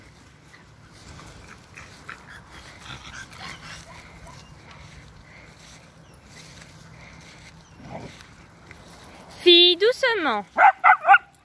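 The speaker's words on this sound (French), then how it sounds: "Vidéo des petits chiens du jour." Several small dogs out on a walk give a quick run of sharp yips and barks near the end, after a stretch of quiet outdoor ambience and a brief spoken word.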